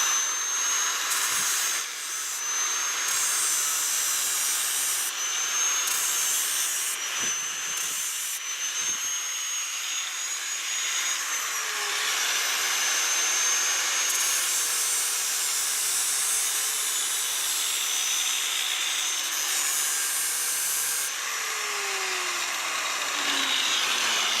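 An angle grinder sharpens lawn aerator knives outdoors, giving a steady, loud, high-pitched grinding whine. It runs continuously for the whole stretch, with small shifts in pitch and brief dips as the blade meets the metal, and no talking.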